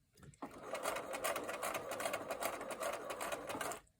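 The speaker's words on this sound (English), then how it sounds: "So I'm going to sew all the way up to this pin." A sewing machine stitches through fabric in one steady, close, rapid run of needle clatter lasting a few seconds, starting and stopping cleanly with no talk.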